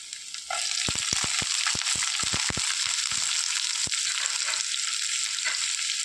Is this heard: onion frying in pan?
yes